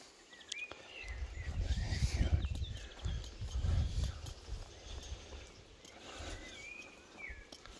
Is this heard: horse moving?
yes